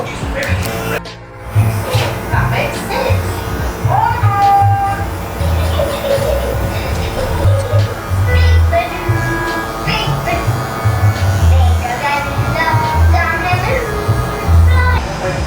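Electric hair clippers with a guard fitted and the lever open buzz steadily through a high taper haircut, a close, continuous motor drone with small shifts as the blade moves up the head.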